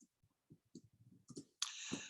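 A short burst of soft keyboard clicks sounds as a password is typed on a computer keyboard, and a brighter hiss rises at the end.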